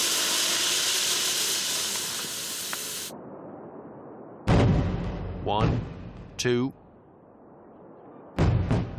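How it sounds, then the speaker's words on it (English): Explosive charges blasting rock in an aquamarine mine in Pakistan: sharp, loud booms arrive one after another with gaps between them, following a stretch of steady hiss, while a voice counts aloud over the blasts. "Twenty or so fuses have to be lit, and they are short, so there's no time to lose."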